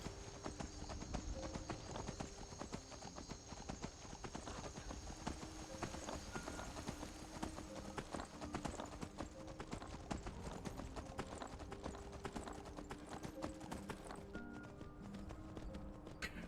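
Horse hooves clip-clop steadily in Skyrim, a continuous trotting rhythm over ambient game sound, with no talk.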